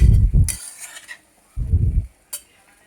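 Cauliflower fry with tempering is stirred in a pan, with a few bursts of spoon scraping and clinking against metal separated by quiet gaps.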